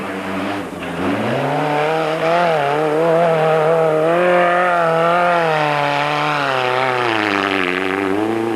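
Heavy, powerful off-road race buggies in the Toyota 1000 desert race, driving through thick desert sand, their engines roaring loud and close with rising and falling revs throughout.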